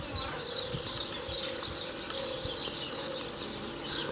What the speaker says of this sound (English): there's tortoises as well as loads and loads of different kind of parrots and birds